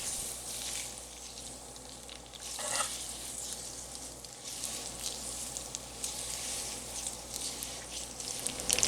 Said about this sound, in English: we simply stir the fettuccine in the butter until the pasta is coated